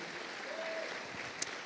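A church congregation claps at a sermon, a soft, thin, steady patter of hands heard at a distance through the whole stretch, with no voices over it.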